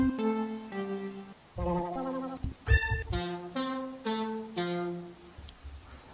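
A keys preset in the Serum synthesizer plays a sequence of bright, harmonically rich notes with a bleating, wavering tone, steady and fairly loud, with no talking.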